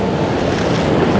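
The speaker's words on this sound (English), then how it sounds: "these waves are getting a little bit bigger" Ocean waves breaking on a shore, a loud, close wash of surf mixed with buffeting wind on the microphone, one brief continuous roar with no voices.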